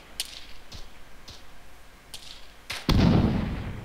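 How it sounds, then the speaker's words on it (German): Gunfire from behind in the Arma 3 video game: a handful of sharp, sparse cracks over roughly three seconds, followed by a louder, sustained burst of noise. "Hinter uns, ich höre Schüsse."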